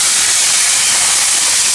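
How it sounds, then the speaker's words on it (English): Steak sizzles loudly in a pan of hot canola oil, a dense, steady hiss of frying without pause, close up and with no talk over it. "You hear that nice, beautiful sizzle."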